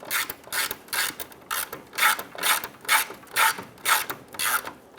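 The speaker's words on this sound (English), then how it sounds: "you're going to use an E4 inverted Torx to go ahead and thread those in" Ratchet driving stud screws with an E4 inverted Torx socket while a 2002-2008 Dodge Ram grille is installed, about ten crisp rhythmic clicking bursts in steady back-and-forth strokes, close and alone.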